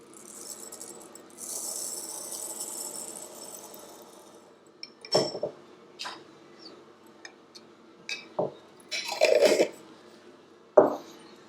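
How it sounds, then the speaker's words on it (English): Used silica gel beads poured into a container, a soft rattling patter followed by several short, sharp clattering bursts up close, with no talking. "This is a used silica gel. I'm just gonna put it into this container"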